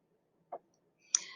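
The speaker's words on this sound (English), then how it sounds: "So let's click on that text box up at the top." Two computer mouse clicks, faint and sharp, sound about half a second apart in a quiet room, the second brighter and followed by a short rustle.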